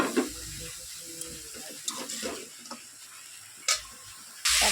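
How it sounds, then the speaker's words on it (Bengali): Vegetable stalks are tossed into hot spice masala in a pan and sizzle, with a spatula scraping and clattering in sharp bursts over the frying hiss. "এবার এটার মধ্যে আমি যে ডাটাগুলো রেখেছিলাম সেগুলো দিয়ে দেবো এই যে ডাটাটা দিয়ে দিলাম"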